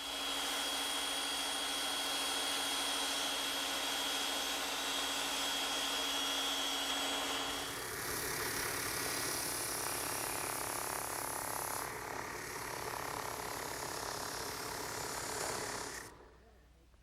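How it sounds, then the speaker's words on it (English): A bandsaw cuts a traced wooden saddle piece for a rocking horse, a loud steady whine and rasp running continuously for about sixteen seconds before stopping abruptly. "I'll cut it on my bandsaw."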